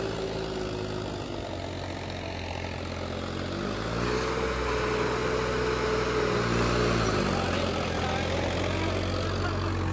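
A Swaraj tractor engine labours while pulling a harrow in a field, a continuous rumbling drone with shifting pitch as the load changes, loud and close with no voices.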